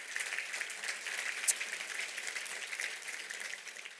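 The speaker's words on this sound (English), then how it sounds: "So if we could give them a round of applause" An audience at a New York business breakfast applauds, a steady wash of clapping that stays fairly even and moderately distant throughout.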